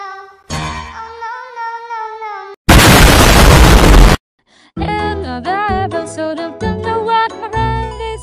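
A Genshin Impact character's bomb goes off in one loud, noisy burst lasting over a second, set between bright chiming game music and jingly sound effects.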